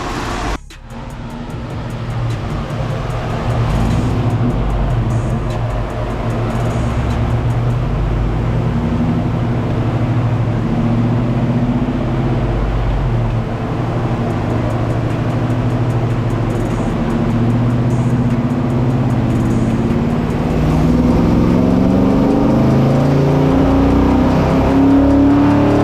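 A car engine on a chassis dyno holds a loud, steady roar that climbs in pitch as it is run up through the revs, with a harsh drone that continues to the end.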